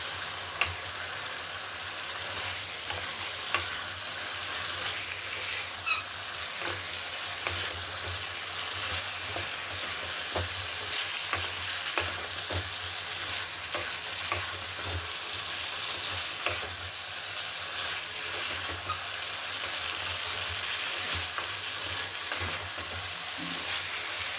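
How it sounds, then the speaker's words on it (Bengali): Fried cauliflower is stirred into masala in a pan, giving a steady, loud sizzle of frying with faint scraping stir sounds scattered throughout and no talking. "এবারে ভেজে রাখা ফুলকপিটা দিয়ে দিলাম ভালো করে মশলাটা মাখিয়ে নিচ্ছি"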